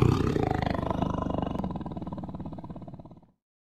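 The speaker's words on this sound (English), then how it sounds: "Now listen closely to hear what a tiger sounds like. It's called a tiger growl." A tiger's growl, close and loud, a rough pulsing rumble that fades out after about three seconds.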